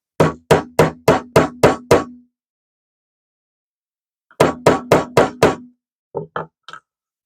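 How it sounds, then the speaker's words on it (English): A hammer strikes eyelets into papercraft in two quick runs of about six sharp knocks each, separated by a pause and followed by a few lighter taps. The knocks are close and loud with silence between them. "All right, more hammering."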